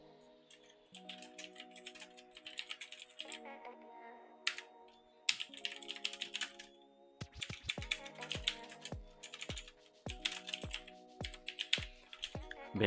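Rapid keystrokes on a computer keyboard come in bursts with short pauses, clicking clearly over a steady sustained musical tone, with no talking.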